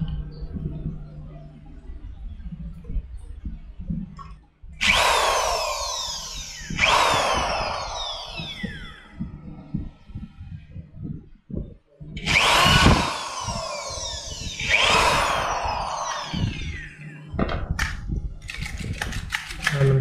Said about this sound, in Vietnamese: đánh dấu và mình sẽ khoan.